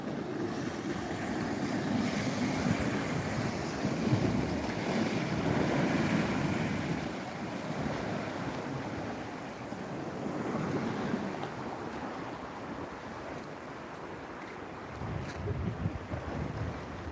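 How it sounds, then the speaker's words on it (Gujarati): Sea waves wash and roll steadily on the coast at Dwarka, with wind buffeting the microphone, a continuous surf roar outdoors with no talking. "જો જો કેટલું મોજું આવે છે"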